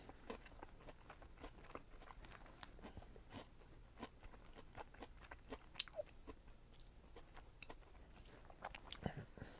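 Someone crunches on crispy fried mangrove snapper fillet with a crusty coating, close-up. Rapid irregular bites and chewing crackle repeatedly throughout at a quiet level, with no talking.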